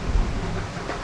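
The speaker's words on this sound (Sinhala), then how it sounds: "ඉතින් පොඩි වැස්සක් යනවා" Light rain falls around a hill bungalow, a continuous soft patter and hiss with a low rumbling undertone, steady and fairly loud for its brief span.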